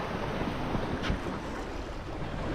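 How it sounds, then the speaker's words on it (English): Wind rushing across a Balance 526 sailing catamaran under mainsail on the Atlantic off Cape Town, a steady broadband roar with water noise beneath, constant and close to the microphone, no speech. "Got a bit of wind now."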